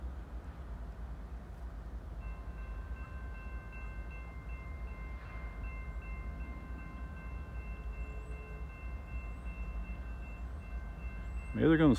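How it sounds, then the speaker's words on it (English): A slow freight train hauling auto racks and truck frames rolls past at a railroad crossing, giving a steady low rumble with sustained tonal squeal, and a loud burst of horn or squeal at the very end. "That train's going pretty slow."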